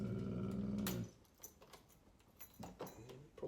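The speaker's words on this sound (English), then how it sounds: "the dogs are insisting that I let them out" Dogs growl low and insistently indoors, wanting to be let out, a steady rumbling growl in the first second followed by quieter shuffling, thumps and faint scrabbling sounds.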